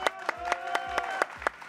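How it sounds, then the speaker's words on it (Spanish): A studio audience claps in sharp, evenly spaced bursts on a live Mexican TV morning show set, close and fairly loud, with no voices over it. "aplauso para ellos, por favor."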